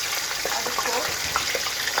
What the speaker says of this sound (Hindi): ये देखिए चिकन हमारी फ्राई हो रही है